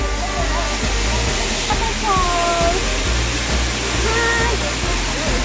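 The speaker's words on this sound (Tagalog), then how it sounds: "Look at that! Still beautiful falls." Steady broadband rush of Ng Tung Chai Waterfalls in Hong Kong, loud and continuous, with people talking over it in the foreground.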